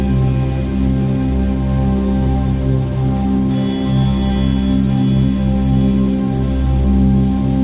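Steady rain falls beside a new water tank installed for wild gaur and sambar deer, making a continuous, even hiss with drips that stays constant and loud throughout, and no voices are heard.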